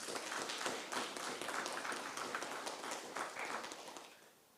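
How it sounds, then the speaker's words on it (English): A council meeting audience applauds award recipients with steady, dense clapping that holds for several seconds before tapering off. "So that little round of applause for that"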